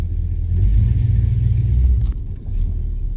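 A 1968 Dodge Charger engine rumbles loudly and close as it accelerates, a deep continuous growl that dips briefly partway through before picking back up.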